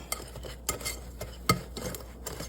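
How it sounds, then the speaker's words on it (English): A spoon stirring hush puppy batter in a bowl gives soft scraping strokes with occasional sharper clinks against the side, close up and with no voices. "I'm gonna stir all this up"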